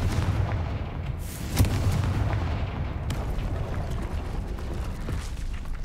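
Confringo fire spell blasts in Hogwarts Legacy, a sharp boom near the middle over a dense, continuous rumble of game combat and crackling effects.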